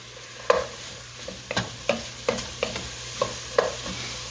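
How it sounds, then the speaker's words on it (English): Long grain rice is stirred and toasted in oil in a pot for Italian tomato and rice soup. A soft sizzle runs under a series of distinct scraping stirs that repeat roughly every half second, close and clear. "the reason I'm stirring this is I want all of those long grains of rice to get some of that oil on it"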